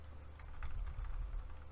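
Quiet typing on a broken computer keyboard, a short burst of soft, uneven key taps set low against a steady background hum, with no talking.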